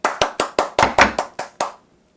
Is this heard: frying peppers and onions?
no